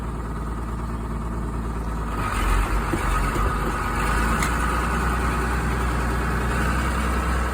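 A John Deere 4240 tractor in a meadow, set in third on its 8-speed, revs up and pulls away: a steady diesel drone swells after a couple of seconds into a louder, fuller engine roar that holds, close and alone.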